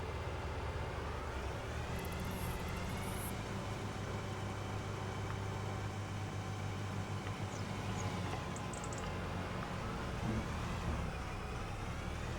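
A farm vehicle's engine hums steadily as it drives in Farming Simulator 25, a faint, even motor drone with slight shifts in pitch and no speech.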